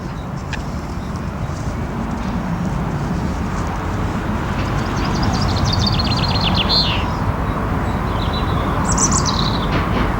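Small birds chirp and trill in short bursts over steady wind noise beside a spring lake, a few clear calls standing out near the middle and end.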